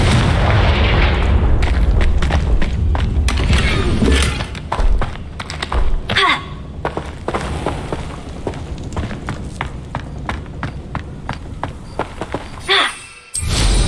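Confringo spell explosions in the Hogwarts Legacy video game: heavy booming blasts and thuds with crackling debris, loud at first, then a string of sharp impacts and a final burst.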